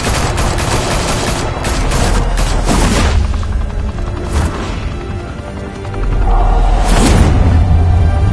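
Rapid gunfire in a Batman video game, dense bursts of shots crackling loudly in quick succession, easing off and then resuming with heavy booms toward the end.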